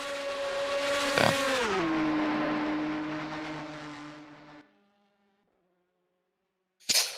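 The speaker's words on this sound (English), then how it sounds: "the Mugen car rocketing down Le Hondier, or the Mulsanne Straight" A Mugen race car engine in a racing video game screams at high revs down the Mulsanne Straight at Le Mans, steady and loud with a brief shift, then cuts to near silence before a short burst returns.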